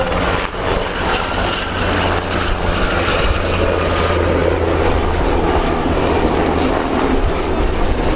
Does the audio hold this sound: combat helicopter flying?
yes